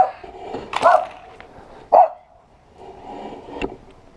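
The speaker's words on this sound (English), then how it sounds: "I got a dog barking." A dog barks a few times nearby in a home garage, with short sharp yelps spaced irregularly over a quiet background.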